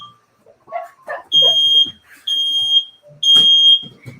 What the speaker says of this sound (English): I think this is the second time I've done a cooking show and the smoke alarm has gone off.